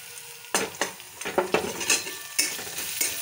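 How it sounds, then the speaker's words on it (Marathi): Onion fries in a pan with a soft sizzle, broken by several loud scraping strokes of a spoon stirring it close by. "तर आपण कांदा चांगला व्यवस्थित परतून घेऊया।"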